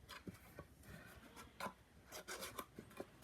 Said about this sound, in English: I use my burnishing tool to press down inside.